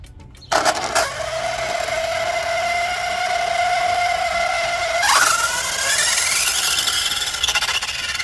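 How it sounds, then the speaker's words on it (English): Loud whining squeal from the brushless motor gearing of a 1:8 scale toy-grade RC Hennessey Venom GT, holding a steady pitch and then climbing sharply as it revs, sustained and close. "That gearing is loud."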